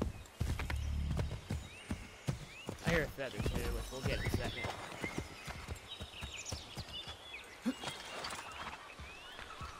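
Horse hooves clip-clop at a walking pace in Assassin's Creed 3, a steady run of soft knocks beneath someone talking over them, with a brief whinny and other game sounds around.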